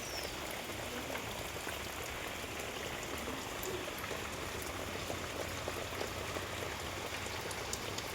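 Steady rain falls without pause, a dense even hiss of drops on surfaces, heard alone with no voices for the whole stretch.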